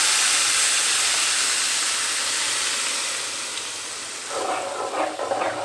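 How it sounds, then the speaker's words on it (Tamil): Steady hissing sizzle of ground tomato paste boiling hard in a hot pan, with a few brief bubbling pops near the end. "இது நல்லா கொதிக்கட்டும்."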